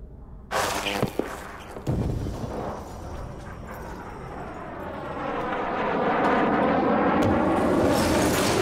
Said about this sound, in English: EMP. Planes are going to come down now.